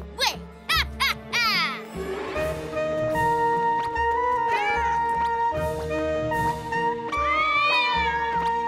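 Cartoon cats in a children's superhero animation meow and caterwaul repeatedly, a run of rising and falling yowls in the first seconds followed by sustained tonal cat cries over a musical background.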